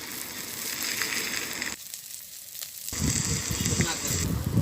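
Garlic sizzles in hot oil alongside frying fish, a steady crackling hiss that briefly drops away and then returns louder and busier.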